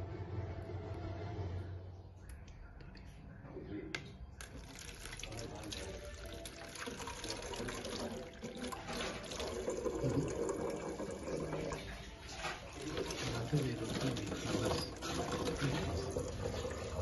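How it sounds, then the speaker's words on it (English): Water is poured through a funnel into a bottle during a filtering and decanting demonstration, a steady splashing trickle with some clinks and rattles, close and moderately loud under faint background noise. "We'll pour half of the water."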